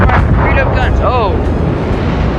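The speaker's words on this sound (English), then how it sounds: "Big explosion." A loud, rumbling ship explosion booms in a World of Warships naval battle, with excited voices over the blast.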